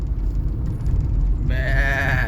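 A sheep by the road on the Narayangaon bypass gives one wavering, tremulous bleat near the end, heard over a steady low engine rumble.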